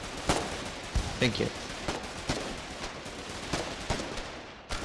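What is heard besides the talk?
gunfire in the video game Foxhole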